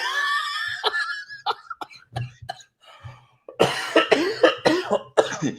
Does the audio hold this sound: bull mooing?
no